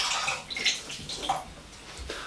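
Running water splashing over a teaspoon as it is quickly rinsed at a kitchen sink, a bright, irregular spattering with small drips.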